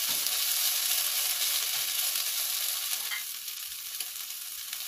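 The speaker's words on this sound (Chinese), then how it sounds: "跟住加埋啲菜谱落去啊，咁将嗰啲肉碎炒到全熟。" Minced pork and dried radish stir-frying in a hot pan, a steady, close hiss of sizzling oil that eases slightly near the end, with no talk.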